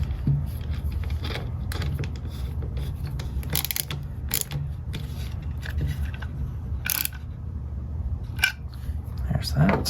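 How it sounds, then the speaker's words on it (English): A 5/16 inch nut driver turns nuts while a Meshtastic radio case is assembled, giving scattered clicking and ratcheting scrapes over a steady low hum, close by, with talking throughout. "I'm using a 5/16 inch nut driver."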